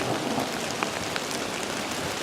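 Steady, loud rain pours down outdoors among pine trees, a dense continuous hiss of drops hitting surfaces throughout, with no voices.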